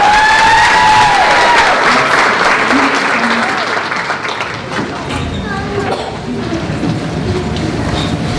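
Loud, sustained applause from a school talent show audience, a dense wash of clapping that continues throughout with some crowd noise mixed in.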